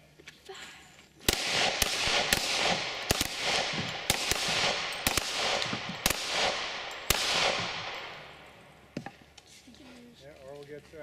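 Shooters firing guns at an outdoor shooting match, a rapid series of about nine sharp loud bangs with ringing decay, followed by a voice in the background.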